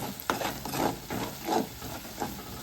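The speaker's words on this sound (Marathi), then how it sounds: "तेलामध्ये छान असा परतून घ्यायचा आहे मसाला एकजीव करून घ्यायचा आहे" Sambar masala sautéed in hot oil in a pan, with a soft sizzle under repeated scraping strokes of a stirring spoon at a steady, unhurried rhythm, close and fairly quiet.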